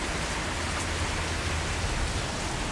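Steady rain pours down in a mountain valley during a long non-stop mountain run, a constant close hiss with no speech and no breaks.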